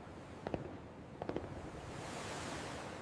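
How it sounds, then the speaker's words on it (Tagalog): Missiles bursting like fireworks, heard as two quick clusters of sharp pops, the first near the half-second mark and the second a moment later, over a steady background rumble with no voices. "Ayan na ang missiles, parang fireworks lang."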